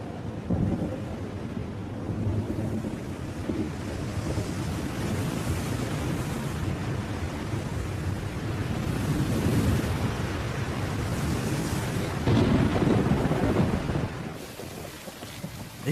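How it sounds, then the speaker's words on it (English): A heavy thunderstorm with rain in Amboseli, Kenya: a continuous dense wash of downpour and deep rumbling thunder swelling and fading for about sixteen seconds, with no voices. "This year, the rains have truly come, bringing a new flush of grass."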